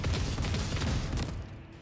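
Gunfire from a ranged attack in the video game Warhammer 40K Rogue Trader: a rapid, loud burst of crackling shots with a low rumbling body, trailing off toward the end, with no talking.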